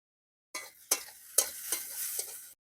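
Eggplant fries in a pan over a clay stove with green chillies and whole poppy seeds sprinkled on top, giving a bright, steady sizzle that begins abruptly and carries a few louder scraping stirs over about two seconds.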